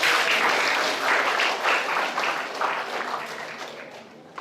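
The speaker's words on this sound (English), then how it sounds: "Ladies and gentlemen, please give applause to all the speakers and moderators." An audience at an international summer course gives a sustained round of clapping for the speakers and moderators, loud and continuous before easing off toward the end.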